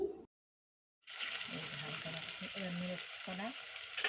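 Chopped onions and whole cumin seeds sizzle in hot oil in a pan for a desi chicken curry, a steady close hiss with scraping stirs, starting after a brief silence, with a faint voice in the background.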